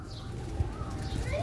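An old Sialkoti silver pigeon on a rooftop coos in low, soft, rolling tones that repeat close by, with faint background noise throughout.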